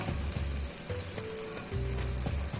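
Bread slices, soaked and wet, sizzle steadily in a frying pan for an Italian breakfast plate, a continuous close crackle with low hum beneath and no talking.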